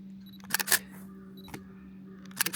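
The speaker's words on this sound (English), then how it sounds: "Click. That was a fun sound." Camera shutter clicks, sharp mechanical snaps in a quick pair, a lone one, then another pair, close by over a steady low hum.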